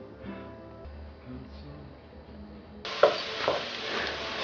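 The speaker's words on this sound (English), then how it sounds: "Saute peppers and a little olive oil." Bell peppers sautéing in a little olive oil for homemade pizza, with a low background hum at first, then a steady loud sizzle breaking in partway through and carrying on with small pops and stirring.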